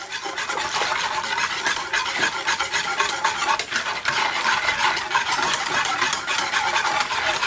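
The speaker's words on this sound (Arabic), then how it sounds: "ونخلطوا هذه المقادير بحال هكا" Dessert ingredients with chocolate and flan powder being whisked together in a bowl, a steady, close, scraping stir that runs continuously without pause.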